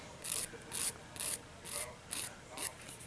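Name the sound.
filing and shaping a fingernail with a nail file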